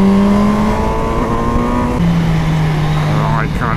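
A 2020 MV Agusta Brutale 1000 RR motorcycle accelerates hard with a loud, rising engine howl, then a sharp quick-shift drop in pitch before it climbs again, close and dominant throughout.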